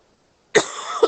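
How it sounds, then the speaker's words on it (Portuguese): Single short cough from a person with the flu, a sharp burst followed by a brief rasp and a second small catch, close and alone against silence. "que eu tô tossindo, que eu peguei uma gripe."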